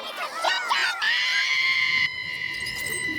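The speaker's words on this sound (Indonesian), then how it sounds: "si ibu juragan akhirnya teriak agar mereka semua diam" A woman lets out a loud, piercing scream to silence everyone around her in a residential compound. The shrill, sustained cry rises sharply, holds for about two seconds, then continues at a slightly lower pitch before cutting off.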